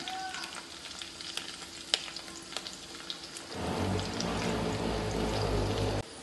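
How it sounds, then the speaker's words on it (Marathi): Green chillies drop into garlic frying in oil, a quiet background sizzle with scattered clicks that swells into a louder, fuller hiss partway through, heard up close without any voices. "आता मिरच्या टाकते याच्यामध्ये तोडून"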